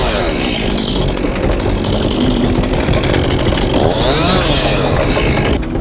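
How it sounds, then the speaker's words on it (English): A chainsaw runs nearby, loud and continuous. Its engine rises briefly in pitch twice and otherwise holds a steady idle-to-mid drone, with no speech over it. "Anytime you're running a chainsaw and you leave it running, idling"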